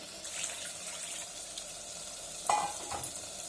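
Fish curry base sautéing in a clay pot, a soft, fairly faint sizzle with a couple of light utensil clinks near the end and no voices.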